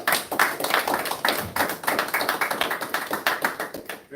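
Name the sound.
audience applause for the host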